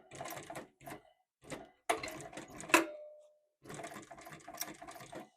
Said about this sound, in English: We're just going to sew all the way around the full seam allowance